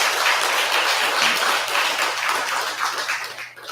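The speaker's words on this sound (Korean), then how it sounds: "큰 박수 한번 부탁드릴까요?" A congregation applauds a choir at a Sunday family dharma service in a temple, dense, loud clapping sustained throughout and easing slightly at the end.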